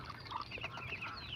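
Jumbo ducks, a cross between common ducks and geese, clucking and calling on a duck farm, a busy overlapping chorus of nearby fowl voices with no talk.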